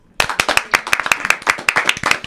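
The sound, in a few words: audience applause for the intuitive coach Katia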